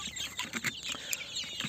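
Desi chickens in a poultry shed cluck continuously at a moderate distance, many overlapping short calls forming a busy, steady flock chatter with no speech.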